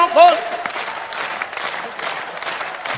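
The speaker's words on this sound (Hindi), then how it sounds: "आपको ताली बजाने की ट्रेनिंग किसने दी है?" An audience claps steadily at a Hindi poetry recitation by a poet, dense applause at moderate distance, with a voice briefly speaking over the start.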